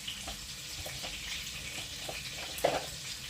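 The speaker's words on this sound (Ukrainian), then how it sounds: "гарно розплавлене вершкове масло з олійкою додаємо цибулю. І будемо обсмажувати окремо" Chopped onion frying in a pan of melted butter with oil, a steady soft sizzle and crackle throughout at moderate distance, with a few faint clinks and stirring sounds.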